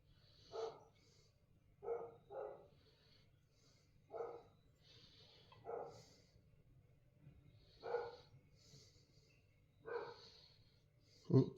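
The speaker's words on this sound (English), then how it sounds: "Dog's barking in the background." A dog barks in the distance at an Australian outback property, faint single and double woofs repeating every couple of seconds against a quiet background.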